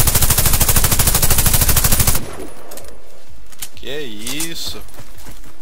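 A Tavor CTAR 21 rifle in Warface fires one loud, rapid automatic burst lasting about two seconds, then stops, and a voice speaks briefly afterward.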